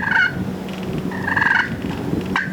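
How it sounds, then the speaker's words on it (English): Wild turkeys gobble outdoors during a Quebec turkey hunt, three loud rattling gobbles spaced across the stretch, the birds moving off, with no talk. "We could still hear them gobbling as they went away"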